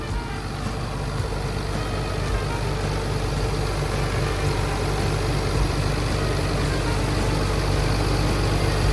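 A heavy diesel engine of a 20-ton Caterpillar 320D excavator idles steadily nearby, a constant low rumble with an even rhythmic chug and no voices.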